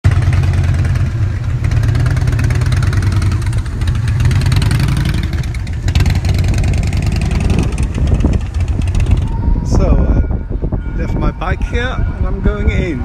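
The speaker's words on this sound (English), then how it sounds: "There are people on scooters like everywhere." Scooters ride along a street in central Stockholm, giving a loud, close engine hum mixed with bustling street noise, with brief voices and clatter toward the end.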